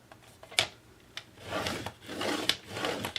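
A scoring tool drags along a line on paper or card while making a faux wooden crate, giving short scraping strokes and scratchy rubs with a few sharp ticks, close and quiet.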